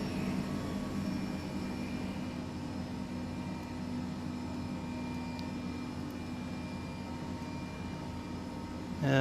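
A twin-engine H135 helicopter in a flight simulator game hums steadily at low volume while one engine is taken offline, a continuous mechanical drone with faint tonal whine and no voices.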